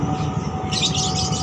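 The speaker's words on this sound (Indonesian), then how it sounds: "burung-burung lovebird nih ya mendominasi di kios yang kedua ini" Lovebirds chirp in a bright, busy chatter at Plenongan bird market in Depok, starting partway through, over a low rumbling background and a steady thin hum.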